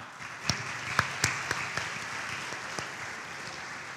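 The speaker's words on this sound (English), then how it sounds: "Let's give her a round of applause." An audience at a school awards show applauds, a dense wash of many hands clapping with a few louder nearby claps standing out early, steady and fading slightly.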